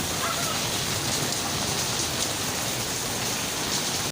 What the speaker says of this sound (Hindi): बारिश इंजॉय कर रही हूँ, बड़ा मज़ा आ रहा है यार बारिश में।